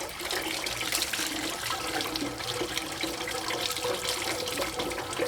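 Water pours steadily to rinse a dog during a bath, a continuous close splashing and gushing stream that holds level throughout.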